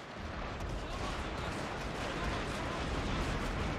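Continuous, dense battlefield roar of artillery and massed gunfire in Total War: Shogun 2: Fall of the Samurai, a steady wall of booms and crackling volleys with no pauses.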